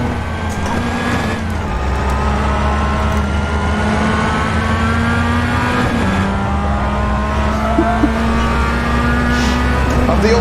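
Mazda MX-5 race cars in the iRacing sim roar continuously at high revs, the engine tone climbing through gears with brief shifts, and tires squeal now and then in a loud, steady stream.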